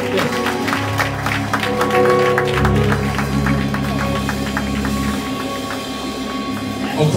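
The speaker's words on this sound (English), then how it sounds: "Let's give them a round of applause as they bless our soul today." A church congregation applauds its praise team, steady clapping spread through the room over sustained organ and keyboard chords, with a voice faintly heard.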